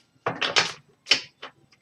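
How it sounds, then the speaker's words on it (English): A deck of tarot cards is shuffled in quick bursts, several crisp riffling flurries separated by short pauses, close up and without talk. "one more shuffle and I'll fan them out"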